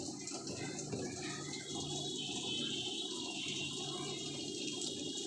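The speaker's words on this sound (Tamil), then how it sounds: "தண்ணி வருது." Water pours into a Bosch top-load washing machine, making a steady, continuous rushing and splashing sound that stays at an even level throughout.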